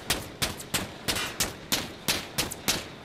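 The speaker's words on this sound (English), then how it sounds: "Just shooting into the smoke" Rapid, evenly spaced gunshots in the tactical shooter Insurgency Sandstorm, about ten loud close reports in steady rhythm fired into smoke, with no voices over them.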